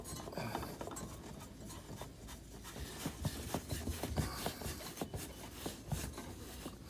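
An oil filter for a Cub Cadet Z Force mower is screwed on by hand, making faint, close, repetitive scraping and rubbing friction sounds in an irregular rhythm, with no talking.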